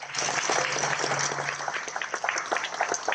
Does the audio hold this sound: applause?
yes